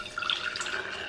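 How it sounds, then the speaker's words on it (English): Mint tea concentrate poured into a quart jar, a brief close liquid splash and trickle with bright dripping tones, lasting about a second with no talking. "And then we'll take the last of the concentrate and pour it into this quart jar."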